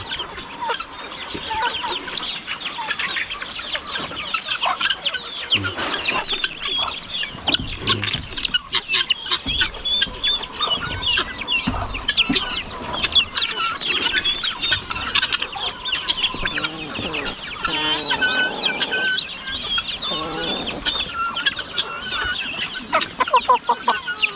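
Chickens cluck continuously and busily nearby, many birds overlapping in short choppy calls with no pauses.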